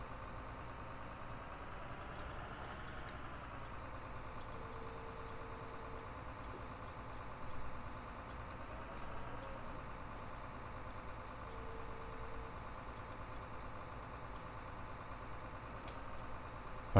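A tractor engine in Farming Simulator 2013 drones steadily at a constant idle-like pitch, rising slightly in revs now and then, with no voices throughout.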